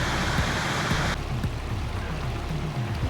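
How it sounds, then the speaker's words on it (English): A small waterfall spills from a lake outlet on the Pacific Crest Trail, a steady close rush of water that drops to a softer flow partway through. "What a picturesque little waterfall."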